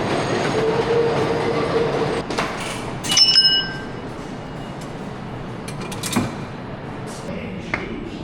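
A New York subway train rumbles along the track with a steady low roar, a squealing whine early on and scattered metallic clanks and rattles of the car, close and loud.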